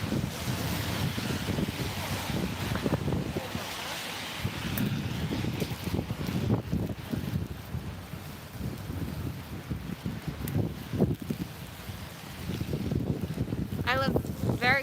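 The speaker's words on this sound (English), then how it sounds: "maybe I can get Mary Poppined by the wind today." Strong wind gusts roar steadily into the microphone during an outdoor walk with an umbrella. The buffeting continues throughout the clip.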